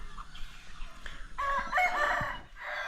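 Backyard chickens clucking in a pen with a rooster crowing loudly in a drawn-out call midway, over faint outdoor background, no talking.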